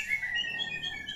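A white-rumped shama (murai batu) songbird chirps in bright, rapid high trills over a soft background hiss, close and continuous throughout the short stretch.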